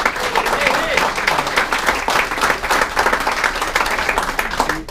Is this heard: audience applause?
yes